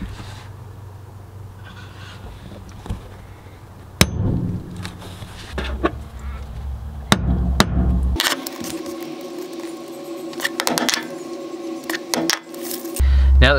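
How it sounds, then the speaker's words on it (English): A hammer strikes a punch against a template to mark drill holes for an iKamper Skycamp window canopy kit, giving a few sharp, isolated metallic taps spaced seconds apart over a low background hum. "I'm going to take a hammer and a punch and use that to mark where we're going to drill through"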